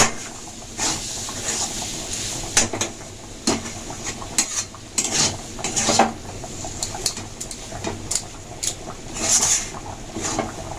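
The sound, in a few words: stirring the teasel gourd dish in a pan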